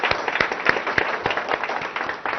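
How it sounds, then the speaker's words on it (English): An audience at a technology center inauguration claps, a scattered, fairly loud round of applause with distinct individual hand claps in an uneven rhythm, no talk. "the entire family of ZF deserves a huge round of applause"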